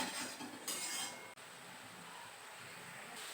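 Meat being stir-fried with spices in a pan, faint scraping of a metal utensil against the pan over a soft sizzle, close and without speech.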